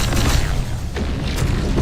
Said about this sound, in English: they got freaking infantry shooting grenades at us.